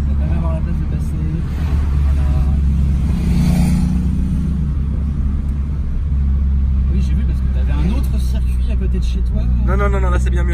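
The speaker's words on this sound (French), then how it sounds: "Je te ferai une petite accélération en première" A Citroën Saxo VTS accelerates in first gear, its engine a loud continuous roar with shifting revs inside the car, while people talk over it.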